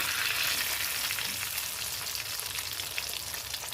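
Hot oil sizzles and crackles steadily in a pan as paneer fries, a bright hissing frying sound heard up close without talk.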